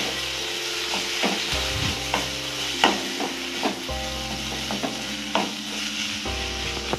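Kashmiri red chilli powder, turmeric and cashews are stir-fried for paneer butter masala, with repeated scraping strokes of a spoon in a loud rhythmic series over a constant sizzle and a low hum, and no talking.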